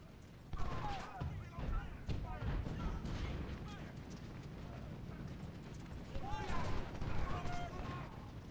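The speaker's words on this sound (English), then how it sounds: "now snipers and artillery just going to beat him to death" Artillery, including Whitworth guns, and sniper fire in a Civil War battle game at Stones River: a dense, continuous crackle of distant shots and muffled booms layered over battlefield noise, with no clear pauses.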